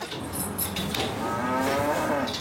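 A cow moos in the Aravis massif in the French Alps. One drawn-out, fairly close low moo rises and holds over open-air background noise, with no talking.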